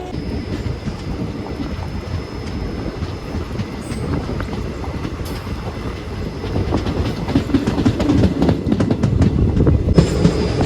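The Ananthapuri SF Express passenger train runs from Chennai Egmore towards Kollam, its steady, loud rumble and rhythmic wheel clatter heard from inside a coach, growing heavier toward the end.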